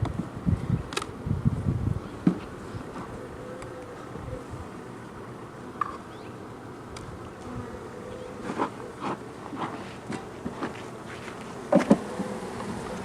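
Carniolan honeybees buzz around an opened hive during a beekeeping inspection, a soft drone with passing bees zipping close by, plus occasional knocks and rustles of hive parts being handled.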